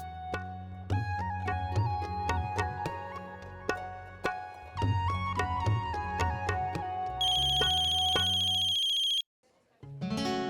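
A phone's ringtone plays loudly as a repeating melodic tune of bright chiming notes for several seconds, then turns into a sustained high electronic tone before cutting off, with no one talking over it.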